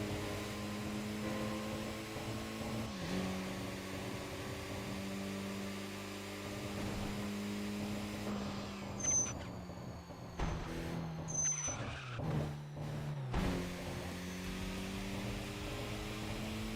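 A supercharged racing car engine in a Sonic racing video game drones steadily throughout, with sustained harmonic engine tones that shift pitch slightly and brief higher whines and bursts toward the end, no talking.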